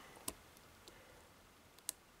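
Lock picking on a Boris #3 challenge lock with single-pin picking: two sharp, faint metallic pin clicks about a second and a half apart against near silence.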